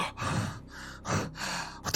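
A man imitates someone gasping for air during a tabletop game session, with two long ragged breaths in, a sighing exhale between them, and a sharp intake at the end, close to the microphone.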